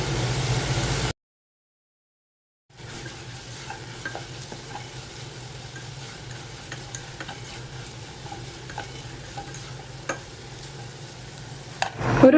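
Curry leaves and other ingredients fry in hot oil for a Kannur-style koottukari, giving a steady soft sizzle with occasional stirring scrapes after a brief silent gap.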